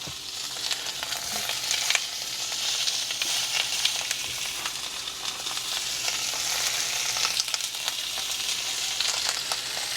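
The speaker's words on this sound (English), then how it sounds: "Oh, these are little baby steaks. Look at that. This won't take long to cook at all." Small steaks sizzle steadily in a hot pan, a dense, even crackle and hiss that stays close and loud throughout, with no talking.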